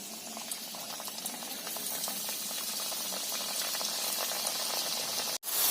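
Potato chips frying in hot white oil in a kadai, a dense bubbling sizzle that swells slightly and holds steady, with a brief clunk near the end.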